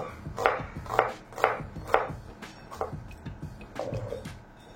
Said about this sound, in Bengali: তাহলে দুটো আমলকি দুটো পেঁয়াজ এখানে চপ করা হয়ে গেল